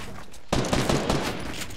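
Rapid video-game gunfire erupts after a short quiet opening and keeps going as a dense, loud volley of overlapping shots to the end, with no talking.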